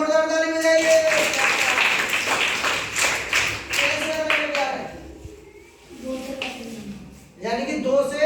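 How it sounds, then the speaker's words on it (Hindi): Students in a classroom break into loud, rapid clapping that fades after a few seconds, with a teacher's voice heard before and after. "जोरदार ताली बजाइए।"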